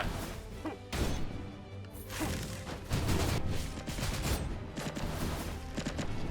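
Big gun blasts in the action game Skul the Hero Slayer, a string of heavy booming hits and crashes with whooshes, loud and busy across the whole stretch.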